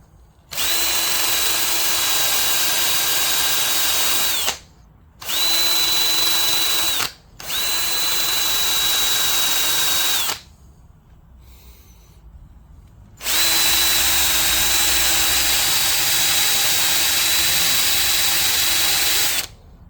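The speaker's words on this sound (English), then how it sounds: "we're going to give these ones a quick hit with the wire wheel before we load them up" Fouled spark plugs held against a spinning wire wheel on a bench grinder, heard as four loud, steady whirring bursts of several seconds each with short pauses between them.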